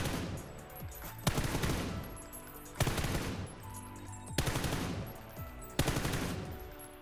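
Automatic rifle fire in PUBG comes in four loud sustained sprays while leaning, each burst of rapid shots lasting over a second with brief gaps between, and no talking.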